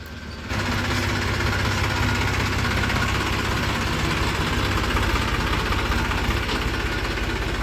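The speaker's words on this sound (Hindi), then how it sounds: "बबलू भाई भी आ लिए हैं जी ट्रैक्टर लेके" A tractor engine idles nearby, a loud and steady low rumble with a rapid, even knocking pulse. It starts abruptly after a brief moment of quiet and keeps running unchanged to the end.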